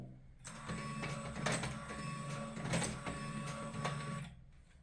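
A whirring electric motor of a Tedee smart door lock with an EVVA cylinder runs for several seconds while unlocking, with a few clicks and clunks, close by and fairly quiet, with no talking.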